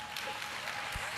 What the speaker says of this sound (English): you see how the parents, they clap themselves louder than you